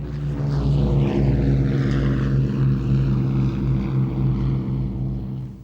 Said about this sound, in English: The Battle of Britain Memorial Flight Lancaster has been a welcome visitor on several occasions.